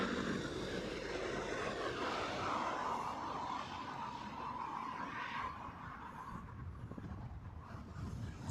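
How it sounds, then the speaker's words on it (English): A British Airways Boeing 777-200ER arrives at Heathrow from Boston, its jet engines giving a broad, continuous roar that holds steady, then eases and thins slightly toward the end, with no voices. "British Airways 202 inbound from Boston. That one a 777-200ER."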